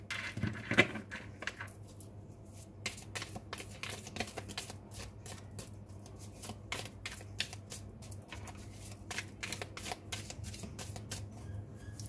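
A deck of reading cards being shuffled, soft rapid riffling and flicking that continues steadily at a quiet level over a low background hum.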